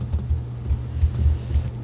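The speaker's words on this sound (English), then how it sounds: "clicking or hitting keys on the keyboard" A computer keyboard picked up by a desk microphone gives soft, dull key taps in an uneven run of about eight strokes, close but muffled, with no voices.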